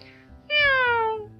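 A cat meows once from up in a tree in a children's fairy-tale setting, a clear, close, drawn-out meow with a falling pitch that rings out after a brief quiet moment.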